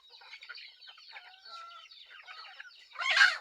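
Chickens cluck softly and continuously at close range in a mountain yard, ending in a louder, harsher squawk.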